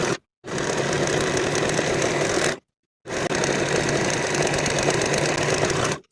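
A serger finishes the seam edges of pants pieces in two long, steady whirring runs, loud and close, with short silent pauses before and between them.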